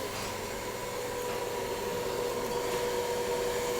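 A handheld hair dryer blows steadily and loudly at close range while hair is dried at the roots with a round brush in a salon setting, a continuous airy roar with a faint tonal whine and no talk.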